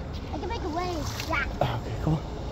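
Water splashes steadily in a fountain at a historic county courthouse, a soft continuous wash beneath an adult and someone talking nearby.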